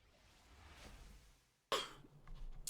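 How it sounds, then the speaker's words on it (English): A single sharp cough bursts out close to the microphone after a stretch of quiet room noise, followed by a brief throat sound. "Still coughing."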